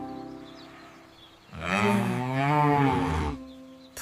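A cartoon cow lets out one long, loud, wavering moo in the middle, with quiet background sound before and after.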